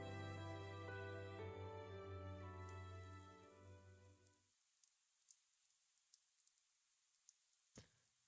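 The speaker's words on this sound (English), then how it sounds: "I wake to the sound of rain." Rain sound effect from the visual novel Fate/stay night: soft, steady patter of rain emerging as tonal music fades out, with faint scattered drops over a quiet backdrop.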